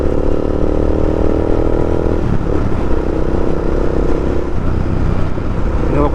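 A Royal Enfield Interceptor motorcycle engine rumbles loud and close at a roundabout, with its throttle opened and the pitch shifting partway through as the bike pulls away.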